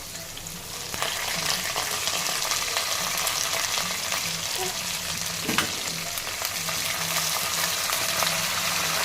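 Soaked chana dal fries in a pan with a steady, close sizzle that swells slightly after the first second, with occasional stirring scrapes and a brief soft knock midway.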